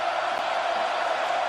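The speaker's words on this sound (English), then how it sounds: "You hear the crowd, ladies and gentlemen." A crowd sound effect played on a podcast, a brief steady roar of cheering voices at moderate level with no break, heard alone.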